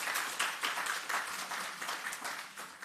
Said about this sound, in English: give the agency a clap for that